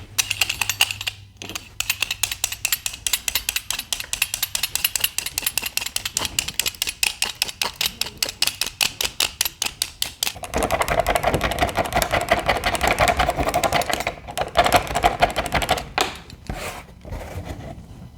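A potato peeler shaves crayons in rapid, steady scraping strokes, a dense close-up rasping rhythm that runs without pause and grows coarser partway through.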